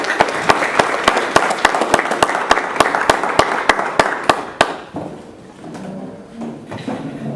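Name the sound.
audience applause for speaker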